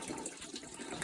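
Water is poured carefully down into a Burnham steam boiler, giving a brief, soft, continuous trickle close by with no talk over it.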